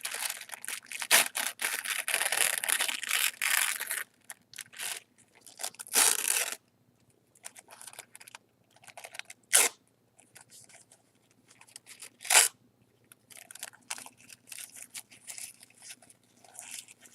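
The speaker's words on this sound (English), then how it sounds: "a little bit more paper tearing and cutting here at the end" Paper being torn and snipped with scissors, close and crisp, in irregular bursts of ripping and crinkling separated by short quiet pauses, with no talking.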